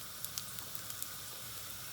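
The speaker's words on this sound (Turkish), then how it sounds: "Tencere çok sıcak olduğu için hemen sarımsaklar yanmaya başladı." Garlic dropped into hot olive oil and butter in a deep steel pot gives a steady, faint sizzle with a few soft pops and crackles, heard alone without speech.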